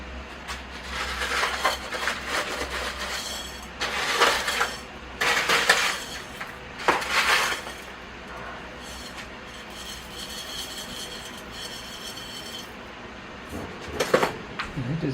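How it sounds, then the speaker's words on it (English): Soil being scooped and topped up around a kapok tree bonsai in its pot, heard as repeated gritty scraping and clinking bursts of tool against ceramic, fairly close and uneven in rhythm, with no talking. "So I just need to top the soil up a little more."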